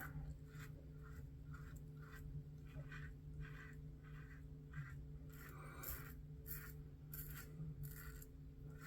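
Shaving brush scooping around a puck of Victory Red Tail shaving soap, a series of short wet scrubbing and scraping strokes in a quick irregular rhythm, close and quiet over a low steady background hum.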